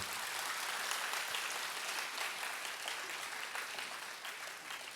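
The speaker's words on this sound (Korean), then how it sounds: "다시 한 번 더 박수로" A church congregation claps again for a group of women honored for their prayers. The applause is continuous and even and holds at a fairly soft, distant level for the whole stretch.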